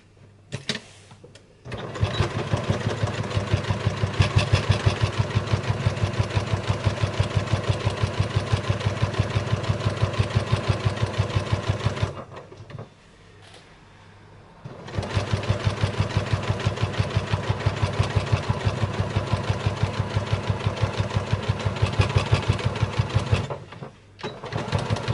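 A sewing machine runs steadily while stitching a quarter-inch seam on a fabric machine cover: a close, even mechanical whir for about ten seconds, a brief pause, then another long continuous run before stopping near the end.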